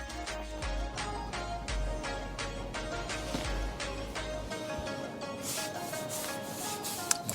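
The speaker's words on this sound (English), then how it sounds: "When brushing over, even as second coats, on smooth and shiny surfaces, avoid as much as possible going over too many times." Brush strokes of chalk paint across an old table, a steady repeated rubbing and swishing that continues close and even throughout, with no talking.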